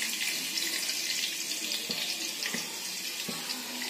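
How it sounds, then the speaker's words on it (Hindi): Water runs from a tap into a pan for sugar syrup while making kimami sewai, a steady bright rushing stream with a few faint clinks of the pan beneath it, no talking. "पानी तकरीबन आधा लीटर के करीब डालना है"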